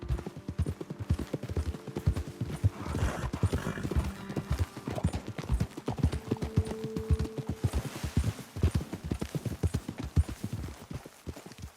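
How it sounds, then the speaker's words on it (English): Horses' hooves clip-clop steadily on hard ground as riders slow to a stop and dismount, with a brief whinny in the middle and quiet voices nearby. "Okay, let's dismount here. Best leave the horses back a bit."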